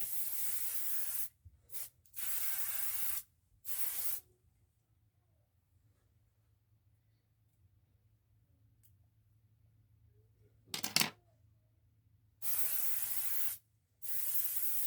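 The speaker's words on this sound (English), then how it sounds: "Spray it real good" An aerosol can of hairspray hisses in several bursts, a couple of short spurts and then longer sprays, close by with quiet pauses between them.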